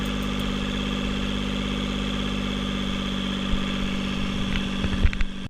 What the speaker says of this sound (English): finally got the engine started back up again